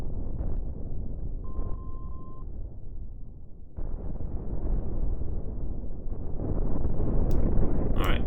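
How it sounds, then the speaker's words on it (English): Explosion rumble from a space battle in the game Cosmoteer: a dense, low roar that cuts off sharply, restarts and swells louder, with brief sharp crackles near the end. "can the explosion actually back propagate to my ship?"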